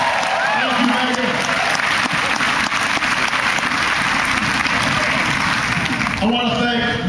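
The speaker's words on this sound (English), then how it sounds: "Give her a big round of applause." A campaign-event audience applauds Megan Bobo, a sustained dense burst of clapping from a large crowd that fills the room steadily, while a voice comes through near the end.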